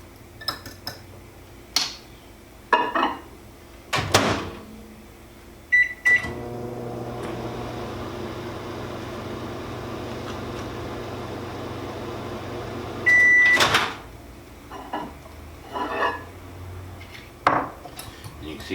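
Microwave oven humming steadily through a short cooking round for eggs, with its tones and clicks at start and stop, preceded and followed by scattered clinks of cutlery and dishes nearby.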